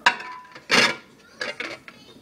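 Stacked plates clink and clatter as they go into a microwave, a few separate ceramic knocks and scrapes heard close up.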